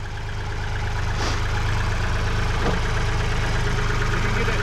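Close, loud idling of a little tractor whose damaged engine has a hole busted in it, a fast, even low chugging that holds steady throughout, with faint knocking and no talking.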